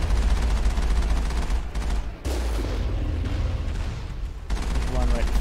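Turret gunfire in the game Mass Effect rattles on in dense, steady bursts with a couple of brief pauses, loud and close, while people talk underneath.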